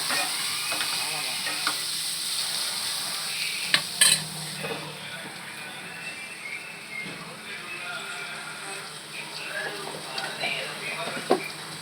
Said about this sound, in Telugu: కొంచెం అల్లం వెల్లుల్లి చేసుకొని వేసుకున్నాము వేసుకొని దాన్ని కూడా పచ్చి వాసన పోయేంత వరకు ఫ్రై చేసుకుంటాము